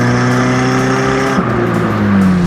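An imported left-hand-drive Honda Civic EK drives along, its engine droning steadily and loudly throughout with a slight shift in pitch partway through.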